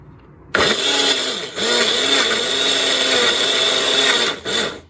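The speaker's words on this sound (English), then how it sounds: "so that's blended pretty well" A blender whirs loud and steady as it mixes buttermilk pancake batter made with tallow, starting abruptly, dipping briefly once, then running with a strained motor whine close by before winding down.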